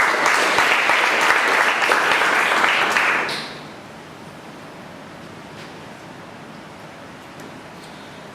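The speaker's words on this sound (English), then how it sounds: "Big round of applause for him." Audience applause for the president at a Toastmasters meeting, a dense, steady clapping from a crowded room that runs for about three seconds, then cuts off to quiet room tone.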